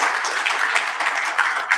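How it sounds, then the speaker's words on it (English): A conference audience applauding panelists at a Saudi-Japan ministerial investment forum, a brief, dense, loud burst of clapping from many hands. "Please give a round of applause to our panelists."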